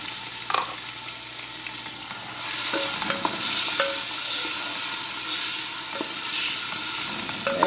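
Chopped onion and tomato sauté in a pot for a beef and cassava stew, a steady close sizzle with scattered scrapes and clinks of stirring, no talk.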